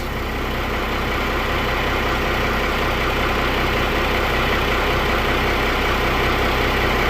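A first-generation Cummins diesel in a truck, just started after eight years sitting, idles steadily and evenly with a low, continuous rumble, close up and with no voices.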